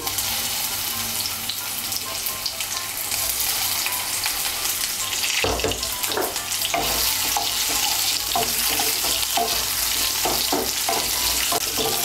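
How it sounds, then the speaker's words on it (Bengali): Boiled potatoes stirred and fried in a pan, a loud, constant sizzle broken by repeated scraping and clattering of a spatula, close up and with no talking. "আলুটা একটু নাড়াচাড়া করে নিয়ে এর মধ্যে আমি গাটি কচুটাও দিয়ে দেব।"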